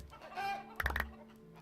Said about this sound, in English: we have got chickens now